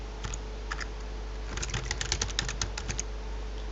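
Rapid clicking keystrokes on a computer keyboard, a few isolated taps and then a quick dense burst of close, crisp typing over a steady low hum.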